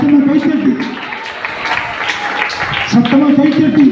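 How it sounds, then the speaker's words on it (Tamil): A congregation claps loudly at a charismatic worship service, a dense steady wash of hand claps running throughout beneath a loud voice calling out over it. "சத்தமா கைத்தட்டி"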